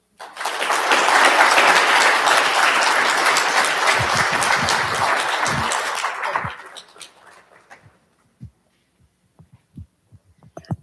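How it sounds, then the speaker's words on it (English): Applause from the audience at a TEDx talk at Central Michigan University, a loud, dense round of clapping lasting about six seconds, then thinning to a few isolated claps and thumps as the hall quiets. "Can we give another round of applause for Lisa?"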